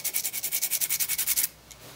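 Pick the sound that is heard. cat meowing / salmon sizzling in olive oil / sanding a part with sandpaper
sanding a part with sandpaper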